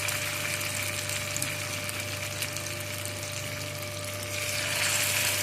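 Potato and pea tikkis fry in hot white oil over a low flame, giving a steady, even sizzling hiss with a faint low hum underneath and no pauses.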